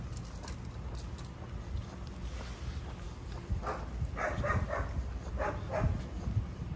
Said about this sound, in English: He's barking at the armadillo.